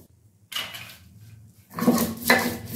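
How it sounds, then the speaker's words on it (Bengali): Poppy seeds and two green chillies ground by hand on a stone slab (shil) in a kitchen, scraping, grinding strokes in uneven bursts separated by brief pauses, close and fairly loud. "2টো কাঁচা লঙ্কা দিয়ে পোস্তটা আমি শিলে বেটে নিচ্ছি।"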